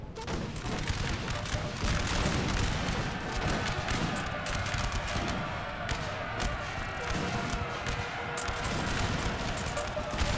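Musket volleys crackle in a Napoleon: Total War multiplayer battle between line infantry and grenadiers, dense overlapping shots forming a continuous loud fusillade throughout.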